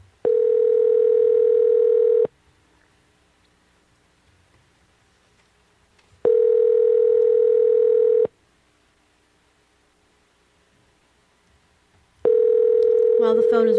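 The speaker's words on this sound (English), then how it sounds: "While the phone is ringing" A telephone rings back during a radio show call: three long, steady electronic tones about two seconds each, separated by roughly four-second gaps, loud and clear with no talk over them.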